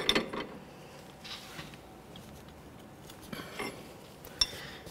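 A wrench tightening the nut on an outer tie rod end of a 2004-2006 Scion xB, heard as faint, sparse metallic clicks and ratcheting taps with a few sharper clinks over quiet background, no voices.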